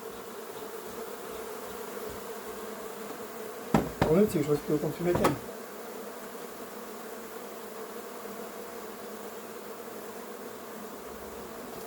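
A swarm of honeybees disturbed during removal of a recently settled colony at Vaux-le-Pénil hums as a constant droning buzz, with a brief burst of knocking and handling noise partway through while a person talks.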